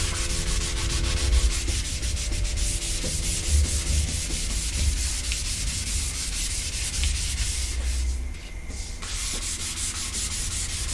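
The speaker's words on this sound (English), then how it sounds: "this is the first sanding with the 320, so I don't need to take off every little bit of black" Steady, continuous rasping of 320 grit sandpaper rubbed over a wooden skateboard deck, close and fairly loud, with a brief lighter stretch near the end before the scrubbing resumes.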